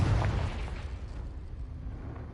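A Confringo spell blasts in Hogwarts Legacy, a loud fiery explosion with a heavy low-end boom that hits at once and then rumbles and crackles away over a couple of seconds.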